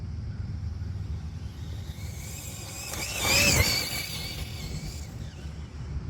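A Losi 8ight XE RTR RC buggy runs at full throttle, giving a steady whine and rumble that swells to a louder, rising pass around the middle of the clip before settling back, with no speech.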